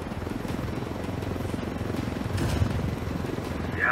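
A helicopter in Ghost Recon Wildlands drones steadily at a moderate distance, its low rotor chop continuous and fairly faint with no talk.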